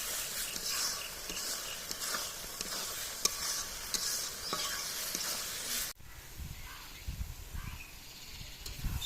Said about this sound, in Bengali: আপনারা যখন দেখবেন যে তেল বাড়ায় কষানোর সময়, তখন দেখবেন যে কষানটা সুন্দর হয়েছে।